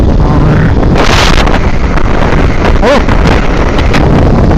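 Yamaha R15 v2 motorcycle ridden at night, a steady loud engine roar and rush of wind buffeting the microphone throughout, with a brief rise in revs partway.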